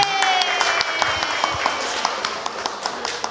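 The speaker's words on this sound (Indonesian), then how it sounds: "tepuk tangan buat kita semua dulu" Applause from an audience of children and adults at a Ramadan talk held in a kindergarten, scattered claps rising under a mix of voices and chatter, fairly close.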